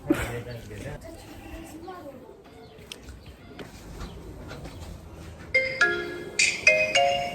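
A phone ringtone chirps in bright repeated bursts toward the end, while people talk nearby throughout.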